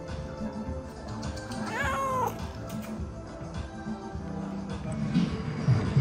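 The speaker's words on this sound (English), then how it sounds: "a kitty just walked in the little restaurant that we found here in the cat park" A cat meows in a small restaurant in an Istanbul cat park, giving one drawn-out, rising and falling meow close by over restaurant background noise and faint talk.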